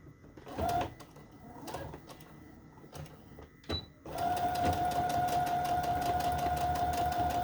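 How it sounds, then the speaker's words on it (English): A sewing machine straight-stitches around a fabric and lace snippet roll, with a few short bursts and handling clicks first, then a sustained steady whir with a whining motor tone to the end. "So with the straight stitch, I am going to just go around it all the way around."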